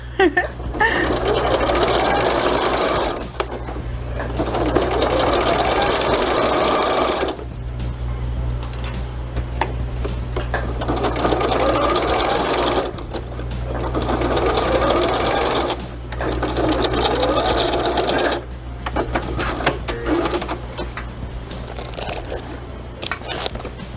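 A domestic sewing machine stitches through layered fabric in loud bursts of rapid, rattling mechanical chatter, stopping and restarting several times with short quieter gaps between runs.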